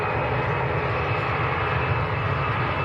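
An EasyJet jet airliner rolls down the full runway length on takeoff at Manchester Airport, its engines a steady, loud, continuous roar throughout.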